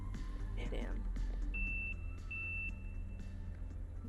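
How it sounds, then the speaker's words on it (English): A loud electronic beep in the survival video game Sons of the Forest: a steady high tone sounding twice in quick succession over quiet game ambience, with a person's voice briefly audible. "Beep's so loud."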